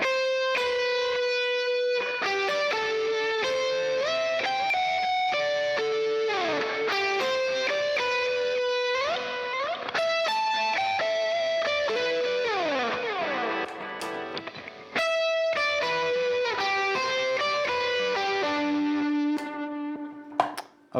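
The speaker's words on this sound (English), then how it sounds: "Let's put a little bit of reverb on, so just so you can hear it in context" An electric guitar plays chords and melodic lines through a pedalboard with reverb switched on. The notes ring out and bloom into a lingering wash, and the playing continues steadily with no talking.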